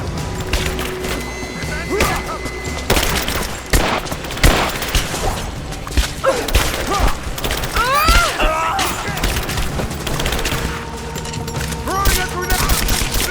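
Shooter-game gunfire in Rise of the Tomb Raider, dense overlapping rifle bursts and single cracks throughout a close firefight, with whooshes and ricochet-like sweeps, loud and continuous.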